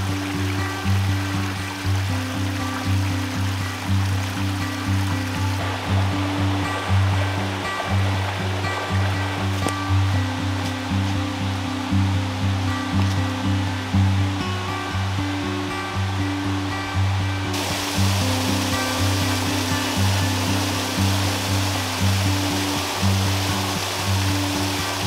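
Small mountain stream tumbling over little cascades on Mount Tremont in New Hampshire's White Mountains on a breezy day, a steady close rushing and splashing of water that continues unbroken throughout, with no voices.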